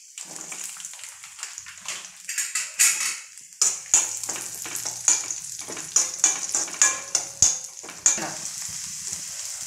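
Cashews and raisins frying in hot oil or ghee in a pan, with a steady sizzle broken by repeated scraping stir strokes, close and fairly loud, no talking.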